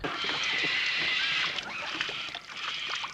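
In a 1951 film set on a river, liquid is poured from a bottle and the bottle is tossed into the water, heard as a brief slosh and splash over a steady watery hiss.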